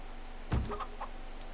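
A single short chicken cluck from chickens in a video game, then a few quieter clucks against a steady low background hum.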